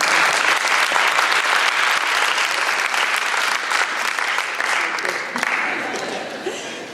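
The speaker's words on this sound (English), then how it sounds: "which I think deserves an applause that he would volunteer to jump in." Convention audience breaking into sustained, dense applause in a hall, loud and steady at first and then gradually thinning out toward the end.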